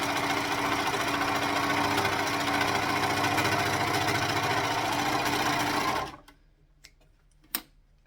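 A sewing machine stitches through fabric straps in a loud, steady mechanical hum with rapid needle chatter for about six seconds, then stops abruptly, leaving faint handling noises and one sharp knock.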